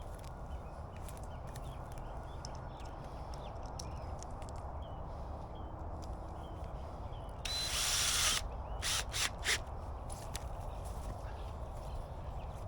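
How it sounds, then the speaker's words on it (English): A power drill drives a self-tapping screw into pipe outdoors, a brief high whirring burst heard over steady background noise with a few faint ticks and knocks nearby. "take the pipe, take a self-tapping screw, put it in"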